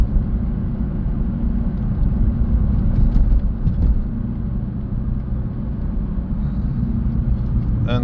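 A Suzuki Swift with a faulty clutch actuator gathers speed in traffic, its engine rumble a steady low drone heard from inside the cabin with continuous road noise and no clear rise in pitch.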